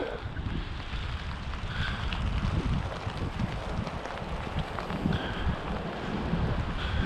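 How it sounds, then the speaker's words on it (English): Strong storm wind in winter woods roars steadily with gusty low rumbling buffeting the microphone throughout, with no voices. "It's really windy now."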